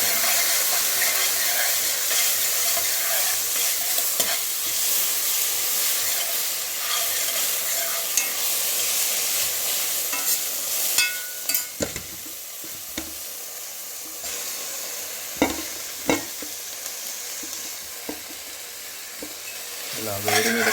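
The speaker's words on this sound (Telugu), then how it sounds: "కడిగిన మునగాకు ఇందులో వేసి బాగా కలుపుతాను" Washed drumstick leaves stir in a hot pan, a steady loud sizzle with hissing steam and scraping spoon strokes, sharper knocks toward the end, and no talking.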